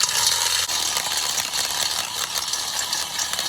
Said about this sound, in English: I'm just going to go ahead and ream it out to the size of the center pin that I'm using.